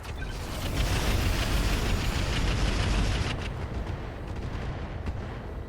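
Mech weapons firing on a Grigori mech in RogueTech, a loud sustained barrage of booming artillery-like blasts that rumbles for several seconds and then tapers into a fading roar.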